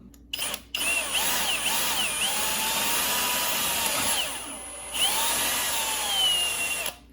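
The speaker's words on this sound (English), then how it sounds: "that's what we're gonna be using once I get that pilot hole drilled" A power drill whines steadily while boring a pilot hole for a mount on a 2000-2006 Chevy Tahoe Z71, loud and close, with short pauses and pitch changes as the bit loads.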